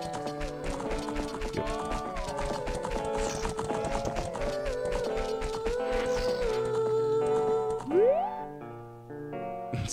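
Epona's hooves clip-clop in the Zelda game Ocarina of Time, a running rhythm layered under bright game music that ends in a rising flourish before fading near the end.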